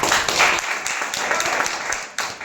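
An audience claps at a direct selling industry talk, a steady wash of applause that carries through from start to finish at a fairly loud level.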